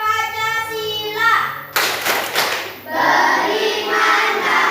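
A class of fifth-grade pupils performs a rhythmic chant, voices rising in unison before a burst of sharp, close claps, then more group voices continue.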